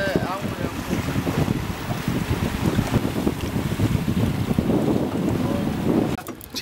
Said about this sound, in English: So fast the wind blowing in that place.